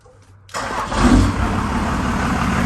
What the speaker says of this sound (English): But let's see if we can get her to start.